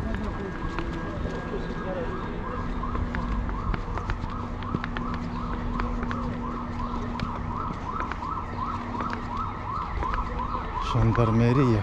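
Police and gendarmerie vehicle sirens wail continuously near the Ministry of Transport in Bucharest during a suspicious package alert, loud and steady with a rising, repeating sweep, over street noise and someone speaking.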